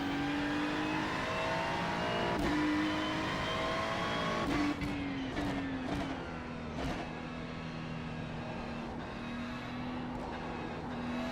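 A Ferrari 296 GT3 race car in the iRacing simulator on the Spa-Francorchamps circuit in Belgium, its engine droning steadily at high revs with several sharp shifts and rev changes, loud and continuous throughout with no talk.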